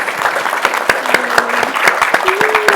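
A community shelter partnership panel audience gives a round of applause, brisk steady clapping from a modest crowd, fairly close and loud, with faint voices and a brief tone running underneath.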